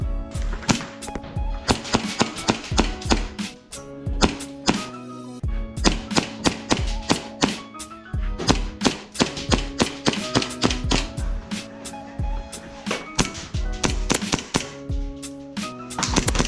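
An EMG Combat Master 2011 airsoft pistol fires during gameplay, sharp snapping shots in quick irregular bursts and single pops, loud and close, with no talking.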